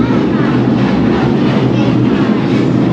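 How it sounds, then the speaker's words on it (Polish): Inside the last car of a retro train travelling from Osielec to Chabówka, a loud, steady rumble and rattle of wheels on track fills the cabin continuously and close up. "Jesteśmy już w pociągu, jedziemy."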